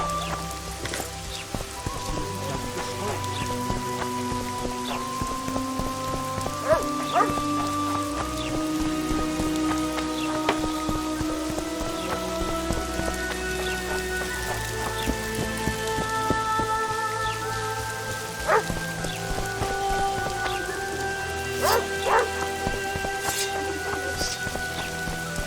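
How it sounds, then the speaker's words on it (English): Steady rain falls in the video game The Witcher 2, a dense continuous patter with occasional distant rumbles of thunder and faint scattered tones from the game's ambience, no speech. "I knew it would rain."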